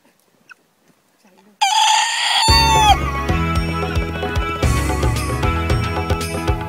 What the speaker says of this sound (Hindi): जंगली मुर्गा